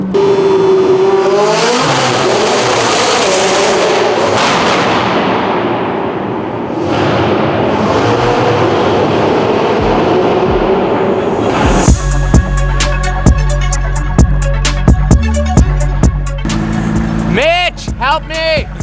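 An 800-horsepower McLaren revs hard with its engine roaring, building into a loud, sustained burnout of the tires, followed by rhythmic mechanical thumps and music-like tones near the end.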